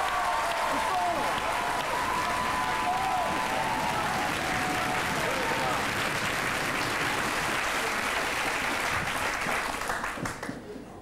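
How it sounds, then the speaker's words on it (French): A television studio audience applauds, dense continuous clapping filling the room for several seconds before tapering off, with a voice speaking faintly underneath. "Faut applaudir. Plus fort!"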